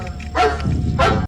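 A dog gives two sharp, close barks in quick succession, loud and clear with no talking over them, cut off abruptly at the end.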